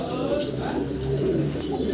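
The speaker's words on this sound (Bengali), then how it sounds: "খুব চমৎকার একজোড়া বন্টিনেট কবুতর দেখতে পারতেছেন" A pair of Bontinet pigeons coo in low, repeated throaty bursts close by, with further cooing from a loft full of pigeons all around.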